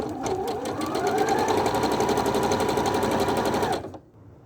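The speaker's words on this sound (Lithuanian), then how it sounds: "Toliau siūsim per šitos detalės kraštą ir nuo susiuvimo siūlės iki krašto turi būti 7 mm" A sewing machine runs steadily while stitching a flat felled seam along the edge of a fabric piece, its rapid, even needle clatter continuing close and loud for almost four seconds before stopping.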